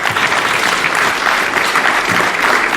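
Loud, dense audience clapping at a San Diego Comic-Con 2024 panel for Savage Sword of Conan comics, a brief continuous burst close up with no voices over it.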